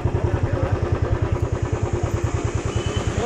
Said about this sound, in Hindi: चलो बाइक लगा देते हैं।